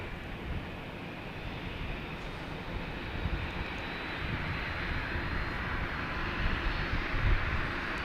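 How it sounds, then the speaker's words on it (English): An airplane coming in to land at Boston Logan Airport, a broad engine roar that swells gradually louder over several seconds, steady and fairly distant, with no voices. "There's a plane coming in."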